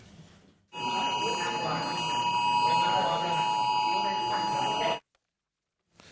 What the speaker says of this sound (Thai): คือเสียงสัญญาณเตือนภัยเซลล์บรอดแคสต์ ที่ดังขึ้นพร้อมกัน 5 จุด